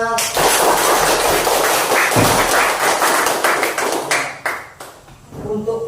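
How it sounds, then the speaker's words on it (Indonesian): Classroom audience clapping for a group's presentation, dense loud applause that thins out into scattered claps, with a few voices faintly underneath. "Tepuk tangannya mana?"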